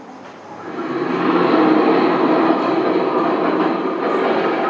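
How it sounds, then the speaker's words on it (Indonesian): Train moving along the track, a steady loud rumbling roar that swells then holds evenly, no voices. "Video apa itu? Kereta api."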